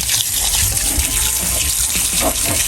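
Strong pressurized water spraying over a car engine during washing with a homemade engine cleaner, a steady hissing gush with splashing, close and continuous.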